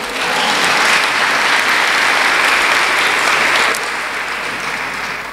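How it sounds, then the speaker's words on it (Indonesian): An audience at an Islamic boarding school visit gives lively applause, a thick, even burst of clapping that holds strongly for several seconds before easing slightly. "marilah kita berikan tepuk tangan yang meriah"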